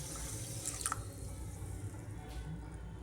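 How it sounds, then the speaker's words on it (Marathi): Water trickles and splashes steadily into a pan of sugar to make syrup, with a faint clink partway through and low background hum. "पाणी घालते"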